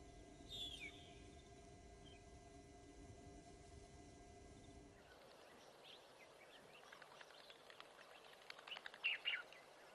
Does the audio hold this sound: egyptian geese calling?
yes